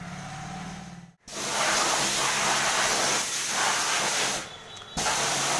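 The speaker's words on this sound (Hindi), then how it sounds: "पूरा पानी उड़ रहा है।" A pressure washer blasts water onto a Bajaj Avenger motorcycle, a loud, close, steady hissing spray that cuts out briefly twice before resuming.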